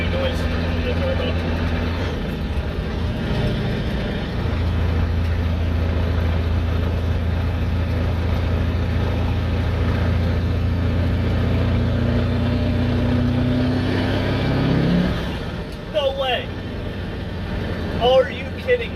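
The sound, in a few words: CAT 3208 turbo diesel with howl pipe under boost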